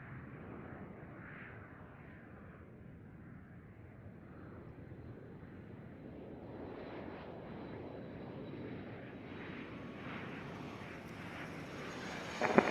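An airliner takes off from Atlanta airport. Its engine roar is a low, fairly faint, distant rumble that builds slowly and steadily.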